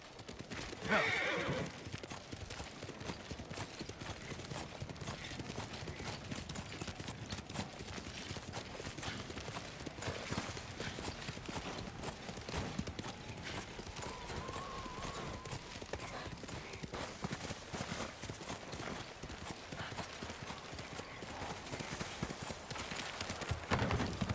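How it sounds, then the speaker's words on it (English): Rhythmic hoofbeats of a galloping horse in Ghost of Tsushima run steadily throughout, with a horse whinny near the start, over a dense, busy background. "You're a good horse, Kage."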